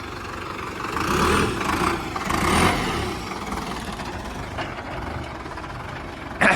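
A Sonalika 60 RX Turbo tractor engine runs steadily up close, its turbo adding a high whistle over the rumbling, with a brief louder burst at the very end.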